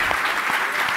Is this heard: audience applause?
yes